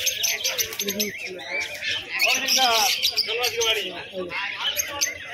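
Pigeons at the Birnagar bird market calling and fluttering amid busy crowd noise, with dense chirps and coos overlapping loud nearby chatter throughout.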